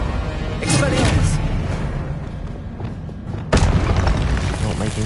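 Spell impacts from the Expelliarmus disarming charm in the Hogwarts Legacy video game land as two booming bursts, one early and a sharper one later, set against dense game combat noise with a voice speaking throughout.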